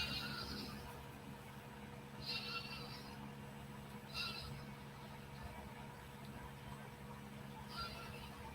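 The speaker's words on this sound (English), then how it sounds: "That's the little baby goats screaming." Short, high bleats from young goats recur every couple of seconds, faint and somewhat distant over a steady low background hum.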